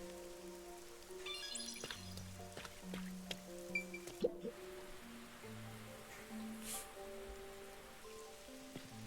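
Rain falls across a large nighttime city in a detective video game, a soft steady patter of drops on surfaces beneath quiet, low ambient game music.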